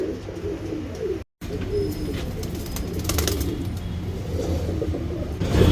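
Nagina Tambral and Dhooma pigeons cooing, low soft repeated coos close by with faint traffic noise in the background and a brief dropout.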